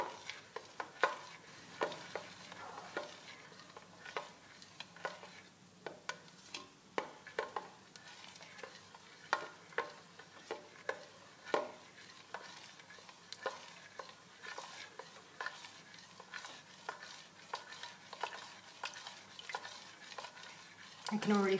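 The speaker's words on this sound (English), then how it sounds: "I'm going to keep stirring while we cook it." Lemon curd being stirred in a pot on medium heat, quiet rhythmic scrapes and taps of the spoon against the pot repeating steadily, with a faint low simmer beneath.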